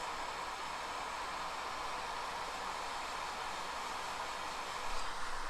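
A hot air rework tool blows a steady broadband hiss as it heats the bottom legs of a Renesas IC on a PS4 BD-ROM drive board, running continuously and close without any talk.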